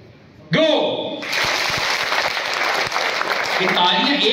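Hall full of youth-club audience members in Hyderabad, Sindh, clapping together on cue: a sharp opening burst, then a dense, loud, sustained wall of applause filling the room.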